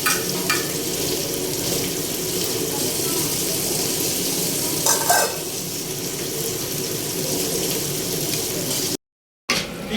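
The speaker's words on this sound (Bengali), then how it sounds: "মাছ ভাজা হয়ে গেছে" Fish frying in a pan in a home kitchen, a continuous steady sizzle with a brief scrape midway and a short gap near the end.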